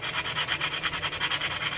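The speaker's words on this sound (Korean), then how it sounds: "근육 너무 많이 붙였으면 이렇게 사포로 문지르면서 근육 처리를 하면 될 것 같고요" Sandpaper rubbed over a sculpted human figure to smooth its muscles, a close, rhythmic rasping scrape in quick even strokes, about ten passes in under two seconds, with no voices.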